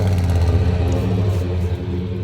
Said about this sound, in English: Hey Matt, go ahead and give her a little rev on it real quick